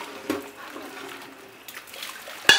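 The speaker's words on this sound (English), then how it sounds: "So I'm going to pour them into the sink to drain, and in the strainer" Hot dye water with mawata silk hankies pours into a sink strainer, giving a soft, steady trickle and splash close by, with a few sharper knocks, including a clatter at the end.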